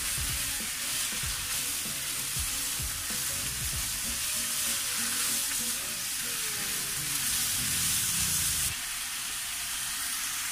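Chicken pieces frying in a pan while being stirred, giving a loud, steady sizzle with scraping and shuffling from the stirring, close up throughout and nobody speaking.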